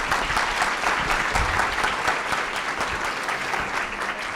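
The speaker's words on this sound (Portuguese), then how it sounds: "Ana Paula e Brianda, um aplauso para elas." An audience at an academic presentation on ORCID identifiers applauds the speakers, dense steady clapping filling the room evenly from start to finish.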